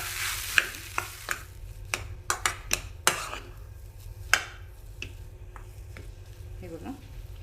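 Peas and boiled potato samosa filling being mixed in a pan, a series of sharp spoon taps and scrapes against the metal over a low steady hum, with a faint voice near the end.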